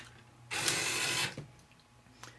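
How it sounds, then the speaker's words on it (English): A CTD-200 card dispenser mechanism pushes out a card, a short burst of close mechanical whirring and clicking lasting under a second, followed by faint clicks. "press the push button on the front of the machine and it'll dispense out a card"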